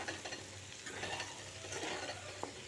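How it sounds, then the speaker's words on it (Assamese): Pork with spices being stirred in a pan, a spoon scraping and turning the meat over a low sizzle in short close strokes, one sharp clink near the end, no talking. "কিন্তু এতিয়া এনেকৈ আধা মিনিটমান লৰাই থাকিম যাতে ধুনীয়াকৈ মিক্স হৈ যায়"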